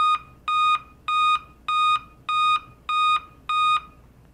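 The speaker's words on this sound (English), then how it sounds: "So that's all it's doing is giving us 8 beeps." A run of identical loud BIOS error beeps from a Dell laptop with a display fault, in a steady rhythm, seven full tones spaced about half a second apart, sounding alone without any voices.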